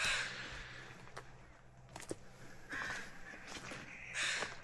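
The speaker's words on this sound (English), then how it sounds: "we might get a lot of crow noise in the background" Several crows caw harshly in short bursts at Taku Harbor, Alaska, a few calls near and loud, others scattered, over quiet outdoor background.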